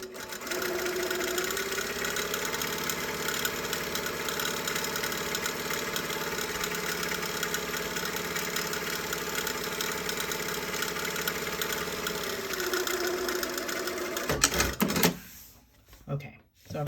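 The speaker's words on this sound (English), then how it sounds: "running a row of stitching 1/4 inch or 5mm along the sleeve head" A sewing machine runs a continuous row of stitching about 1/4 inch (5mm) in from the sleeve head of a classic shirt, a steady close mechanical whir with a rhythmic hum for nearly fifteen seconds before stopping abruptly amid a few handling clatters.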